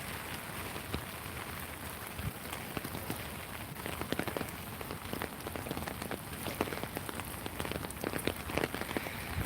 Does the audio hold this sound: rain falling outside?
yes